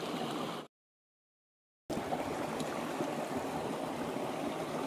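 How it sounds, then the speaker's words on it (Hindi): Natural mountain stream in Uttarakhand, water rushing and splashing steadily up close, a loud continuous wash broken by a short gap of silence before it resumes. "ये हमारे यहाँ का नेचुरल पानी है"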